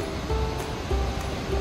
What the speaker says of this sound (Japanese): 続いて虹の滝を見に来ました。